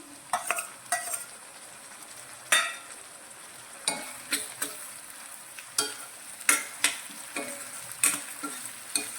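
Finely chopped tomatoes are stirred into onions, ginger and chillies sautéing in a pan, with a steady oily sizzle and repeated sharp scrapes and clinks of a spoon against metal. No one speaks.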